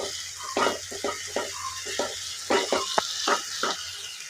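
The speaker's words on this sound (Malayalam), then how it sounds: "നമുക്ക് ചതച്ച് വെച്ചിരിക്കുന്ന പച്ചമുളകും ഇഞ്ചിയും വെളുത്തുള്ളിയും കൂടി ഉള്ളത് നമുക്ക് അതിനകത്ത് കിട്ടുന്ന നല്ലതുപോലെ വഴറ്റിയെടുക്കാം" Tomato with crushed green chili, ginger and garlic sautéed in a rice cooker for chicken dum biryani, making a steady sizzle under a run of rhythmic stirring scrapes and knocks, close and fairly loud, no talking.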